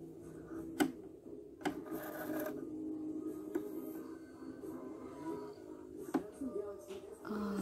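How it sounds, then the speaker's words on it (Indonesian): Sewing machine stitching a 3D cloth face mask, a low steady mechanical whir with a few sharp clicks and knocks scattered through, fairly quiet and close, no talk over it. "Nah, ini kita mulai menjahit dari ujung sini ya."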